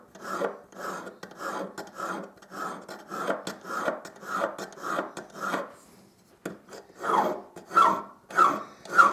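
A half-round hand file rasps back and forth across a ginkgo leaf wood inlay in steady, close strokes, about a dozen repeated scrapes with a brief pause partway through.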